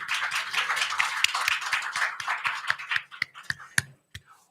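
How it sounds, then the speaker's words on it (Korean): A church congregation claps in thanks during a worship service: a dense, fast burst of many hands that thins into a few scattered, separate claps before fading out. "하나님께 감사의 박수 먼저 합니다"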